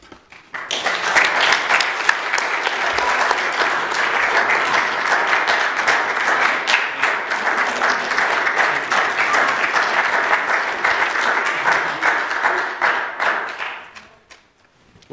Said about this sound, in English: can't you just let everyone stand up and applaud first